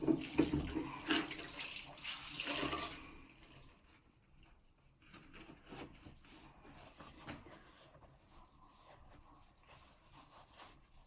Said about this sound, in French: je vais encore donc rincer, je pense, une fois ou deux